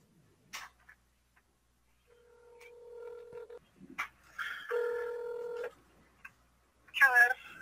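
Tones from dialing a cell phone ring out as a few sustained beeps of differing pitch separated by short gaps, heard close and clear in an otherwise quiet room, with a brief voice near the end.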